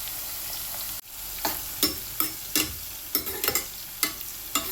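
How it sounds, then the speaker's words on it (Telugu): Bitter gourd pieces sizzle in hot oil with turmeric, a steady crackle broken by a sudden dip and then a series of close, distinct stirring scrapes and clacks against the pan. "ఇవన్నీ మంచిగా మనం ఫ్రై చేసుకోవాలండి."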